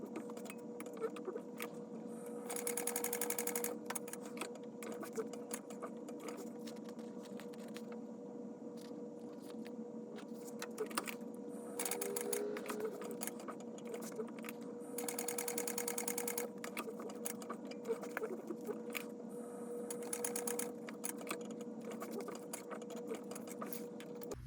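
Sewing machine top stitching along the outer edge of a coffin bag at a long 4.5 stitch length, running steadily with brief faster bursts and pauses, close and moderately quiet with no talk.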